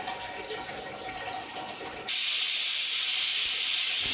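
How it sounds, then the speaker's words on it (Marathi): A pressure cooker on the stove cooking soybean rice, first a rough hissing rush, then a sudden, loud, steady high-pitched jet of escaping steam as the whistle blows. "आता मी कुकरच्या तीन शिट्ट्या होऊन देणार आहे"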